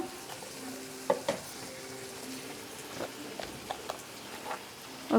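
Ground cumin and coriander fry in a pan for a prawn curry with potato and pointed gourd. A steady soft sizzle runs throughout, broken by a few light clinks and scrapes of a spoon stirring.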